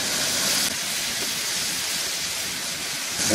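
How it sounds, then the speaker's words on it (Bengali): Tomatoes frying in hot oil in a pan, giving a dense, even hiss that holds steady and close throughout with no talking. "টমেটোটাকে একটু ভাজা ভাজা করে নেবো আর কি, একটু পোড়া পোড়া করে নেবো"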